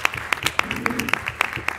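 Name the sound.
audience applause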